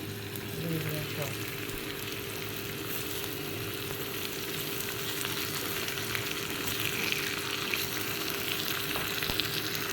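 Potatoes fry in a pan on a home kitchen stove, a steady, close sizzle and crackle of hot oil that runs continuously, with faint background hum.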